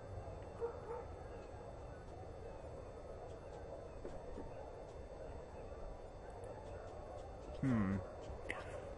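A dog in the RuneScape video game gives a short yelping bark near the end, heard faintly over quiet, steady game background sound.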